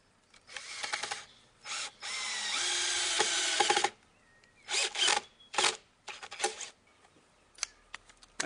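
A power drill drives screws into a wooden insect habitat, with several close, loud whirring bursts of varying length, one long sustained run followed by shorter stop-start spurts and brief gaps of quiet.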